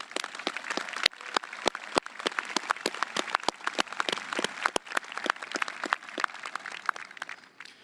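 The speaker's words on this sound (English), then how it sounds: "Let's give them a round of applause" A crowd applauds a graduating class at a high school graduation ceremony, steady clapping made of many distinct sharp claps that carries on throughout at a moderate level.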